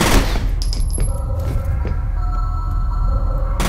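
Assault rifle gunfire in the shooter game F.E.A.R., a loud sustained burst of rapid shots with echoing impacts, heard alone without talk.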